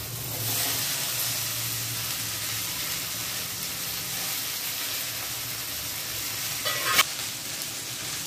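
Green chillies frying in oil in a pan for bhindi bhaji give a steady, close sizzling hiss throughout, with a soft stirring scrape near the end.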